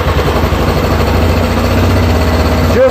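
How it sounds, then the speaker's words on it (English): A Yamaha Big Bear ATV engine runs at low idle, a steady low, throbbing rumble close by with an even, continuous pulse. "So while it's running and at low idle"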